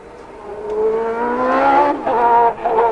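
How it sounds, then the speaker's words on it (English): A 1990 Formula One car's engine running again after a restart, a nasal high-revving whine rising and dropping in pitch as the throttle is blipped, fairly close and loud. "Well, Michele's got the engine going again."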